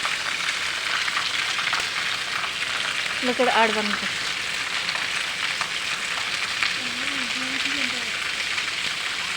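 Heavy rain pours down in a dense, steady hiss that fills the whole scene evenly, while voices speak briefly and children's cries rise faintly over the downpour.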